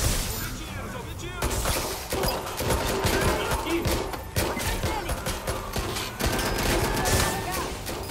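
Bursts of rapid gunfire in the video game Watch Dogs: Legion, a dense fusillade of shots and impacts crackling throughout while someone speaks over the action.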